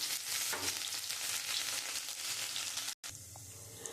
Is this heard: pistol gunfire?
no